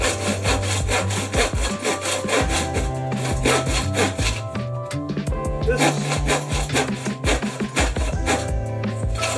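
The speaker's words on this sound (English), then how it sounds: "It's almost like cutting through hardwood." A hand saw cuts through tough, hardwood-like timber while a workbench is being upgraded for a drill press. Quick, regular back-and-forth rasping strokes sound close and loud, with one brief pause midway.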